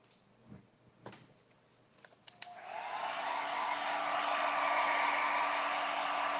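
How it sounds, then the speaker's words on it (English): A hair dryer switches on with a few handling clicks, then blows steadily with a loud, constant whirring rush that continues to the end, drying a painted pot. "let's hit this with the hairdryer just a little bit"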